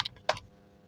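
Fingers tap out a web address on a computer keyboard: two quick clusters of close, crisp key clacks, then quiet room tone, with no talking.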